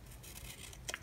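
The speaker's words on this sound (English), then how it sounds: "I'm gonna cut it, and I try to cut in between the lines" Scissors cut through planner paper with a faint, close, soft rustle and a couple of quick crisp snips near the end.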